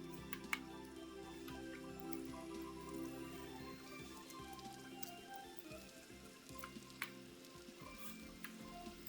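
Steady, faint rain patters within the Vintage Story video game, a soft, continuous hiss with no talking.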